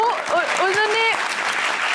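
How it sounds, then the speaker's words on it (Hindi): A studio audience claps at a talk-show taping, the applause steady and fairly close, running under lively speech and laughter throughout. "अरे तालियां"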